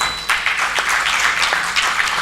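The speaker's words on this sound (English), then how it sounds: "Let's get the applause going" An audience at a corporate social responsibility award ceremony applauds, with loud, steady clapping from a moderate crowd in which individual sharp claps stand out against the steady wash.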